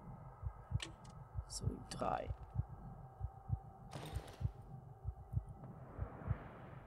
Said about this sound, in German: Und dann dieses Herzklopfen, ne?